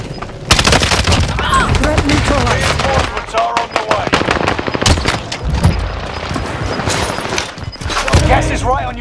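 Hostile gunfire on Warzone's Rebirth Island, dense and loud automatic bursts with overlapping rifle shots close by, running nearly nonstop while in-game voices call out beneath the shooting.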